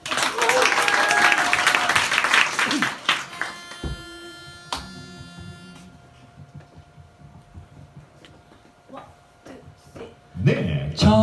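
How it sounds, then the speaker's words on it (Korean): Audience applause at a Christmas concert in a bar, a dense burst of clapping for about three seconds that thins to scattered claps and murmuring, then picks up again at the end. "박수 주세요."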